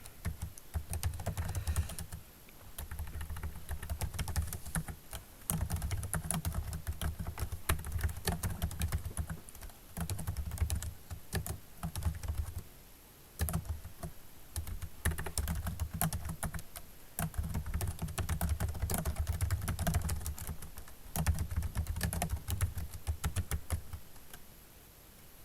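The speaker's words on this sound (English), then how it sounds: "as we type this information in" Fast, quiet keyboard typing during data entry into an Excel spreadsheet, coming as irregular bursts of close key clicks separated by short pauses, with no talking.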